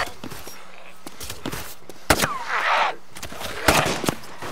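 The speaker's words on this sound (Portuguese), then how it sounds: "Tô atirando" Gunfire from a DayZ Origins mod game session, several sharp shots spaced irregularly over a few seconds, mixed with other in-game noise and faint voices in the background.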